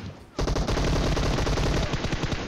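Loud automatic gunfire in the battle royale game PUBG Mobile bursts in after a brief quieter moment, a rapid sustained stream of close shots that tapers into separate cracks toward the end.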